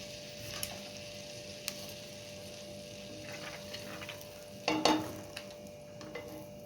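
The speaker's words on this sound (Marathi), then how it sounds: "बटर व्यवस्थित मेळ झाला की आपण ह्याच्यामध्ये जिरा घालून घ्यायचं आहे" Cumin seeds dropped into melted butter in a kadhai sizzle softly and steadily, with a few light clicks and one louder crackling surge midway.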